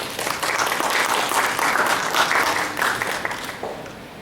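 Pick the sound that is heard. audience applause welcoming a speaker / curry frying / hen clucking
audience applause welcoming a speaker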